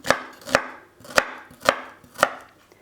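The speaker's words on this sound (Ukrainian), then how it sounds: "Цибулька дрібним кубіком." An onion being diced into small cubes with a knife on a board, giving five evenly spaced, crisp chops about half a second apart, close and clear with no talking.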